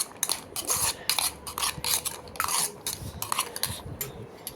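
Cabbage and peas being stirred in a pan, a spoon clattering and scraping against the metal in quick irregular strokes, close and fairly loud, with no talk.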